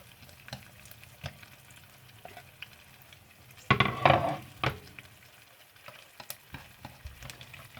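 Chopped garlic and shallots hit a hot pan with a burst of loud crackling sizzle, preceded and followed by quiet scattered pops and clicks against a soft background.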